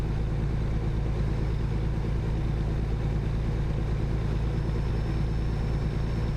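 An old Scania truck with the most powerful engine option in American Truck Simulator drones at a steady low rumble, a constant unbroken engine hum with no speech over it.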